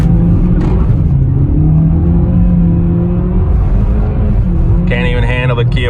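Kia Forte engine revving hard from inside the car, a loud, dense rumbling drone that holds steady and then climbs briefly near the end.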